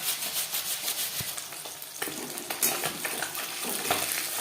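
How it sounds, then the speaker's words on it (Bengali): Grated bata fish fries in a hot wok, a steady crackling sizzle with occasional stirring scrapes and clinks, fairly close and without talk. "ভাজা হয়ে গেলে অপর সাইডটা উল্টে দেবো"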